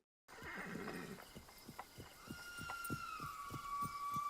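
A horse gallops in a movie scene with rapid, evenly spaced hoofbeats, and a long drawn-out neigh rises over them toward the end.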